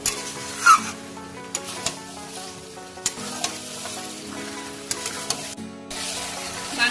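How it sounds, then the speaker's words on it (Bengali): Mutton mixed with spices is stirred in a kadai, with a steady close sizzle and repeated scraping strokes of a spoon against the pan, and no voices. "এবার আমি মশলার সঙ্গে মাংসটা খুব ভালোভাবে মিশিয়ে নিই।"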